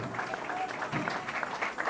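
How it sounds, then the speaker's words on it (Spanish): Church congregation applauding during an evangelical sermon, a steady dense patter of clapping mixed with a voice talking over it, moderately near and fairly quiet. "Denle fuerte el aplauso"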